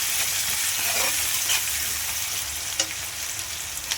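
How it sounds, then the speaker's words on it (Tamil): Salted onions fry in a pan while being stirred, a loud continuous sizzle with scattered crackles and a few sharp clinks from the spoon. "இப்போ பாருங்கள், வெங்காயம் கொஞ்சம் நல்லா வதங்கி வந்திருக்கு"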